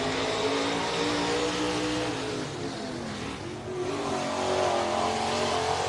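A street stock race car running laps at Wartburg Speedway during a Fourth of July race meet, its engine a steady, loud roar that holds without a break.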